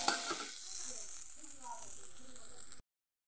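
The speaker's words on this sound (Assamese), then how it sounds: "চাহৰ লগত খাবলৈ বুট ভাজি" Chickpeas frying in a pan for a tea-time snack, a steady close sizzle with faint stirring scrapes, fairly quiet, no talk, ending abruptly.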